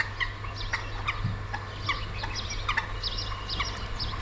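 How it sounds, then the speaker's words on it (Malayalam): Repeated bird calls, clucking and gobbling sounds from waterhens by a stream at Dal Lake, ring out in quick bursts over a steady low background hum. "ഇതുവരെ ജീവിതത്തിൽ കണ്ടിട്ടില്ലാത്ത പക്ഷികളാണ് അതിൻ്റെ ശബ്ദം ഒന്ന് ശ്രദ്ധിച്ചാൽ നിങ്ങൾക്ക് മനസ്സിലാവും"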